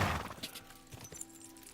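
Quick hoofbeats of a galloping horse in the video game Kingdom Come: Deliverance II, a short rhythmic run of thuds that starts loud and trails off.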